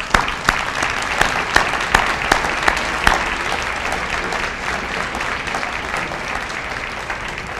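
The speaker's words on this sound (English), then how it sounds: "give them a big round of applause and then a thank you" An audience at a high school senior awards ceremony gives sustained applause, a dense wash of many hands clapping with a few sharper nearby claps early on, steady and fairly loud throughout.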